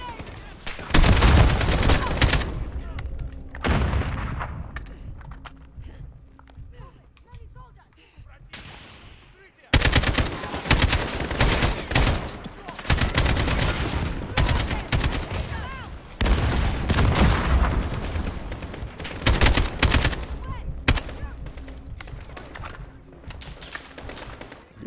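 Loud bursts of rapid automatic gunfire and booming shots in Call of Duty Modern Warfare, long sustained volleys broken by a brief lull, close and heavy, with a player talking at times.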